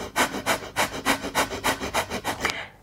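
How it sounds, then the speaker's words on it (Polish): Bhastrika breath of fire, rapid, shallow diaphragmatic breathing with equal inhales and exhales, sounds as a fast, even train of about a dozen forceful, close breath pulses before stopping. "Bastrika bardziej jest tym, co jest oddechem ognia, czyli szybki, wymienny oddech przeponowy, ale stosunkowo płytki"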